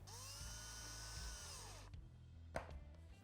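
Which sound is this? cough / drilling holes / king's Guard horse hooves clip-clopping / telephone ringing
drilling holes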